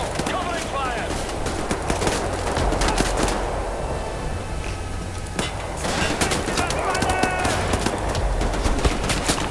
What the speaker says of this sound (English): you motherfuckers are shooting at me!